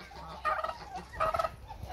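Turkeys gobble in a farmyard mini zoo with ducks and other fowl, two loud bursts of rapid warbling gobbles close by, separated by a short pause over low background noise.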